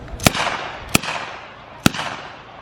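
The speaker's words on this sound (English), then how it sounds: "Here comes the creme de la creme of the British, the Bren gun." A British Bren gun fires three separate single shots at uneven intervals, each a sharp loud crack with a brief echoing tail, heard outdoors at a wartime display.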